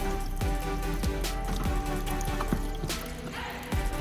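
Water sprinkles and drips onto dry flower seedling trays at a farm, a steady patter of droplets with repeated short splashy bursts, close and continuous.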